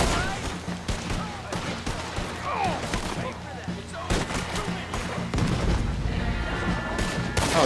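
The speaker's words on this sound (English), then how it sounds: "They have a cannon, Dutch." In a Red Dead Redemption 2 battle, dense gunfire and heavy cannon booms roll continuously at high volume, with sharp cracks and deep thumps layered over tense game music and shouted voices.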